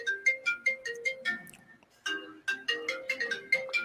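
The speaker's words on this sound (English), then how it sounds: "Why am I getting a phone call from Vegas?" A phone ringtone for an incoming call plays as a bright repeating melody of short tonal notes, with a brief pause before the tune resumes, loud and close.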